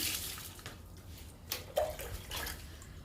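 Liquid fertilizer poured from a container onto a potted Ranapala indoor plant, a soft close splashing trickle that rises and falls over a few seconds with a brief clink, quiet and alone.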